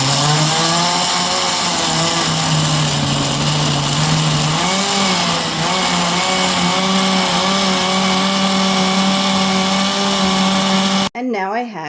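An electric blender crushes washed grapes for wine, its motor whining loud and close with a shifting pitch as the fruit breaks down, running steadily before cutting off abruptly at the end.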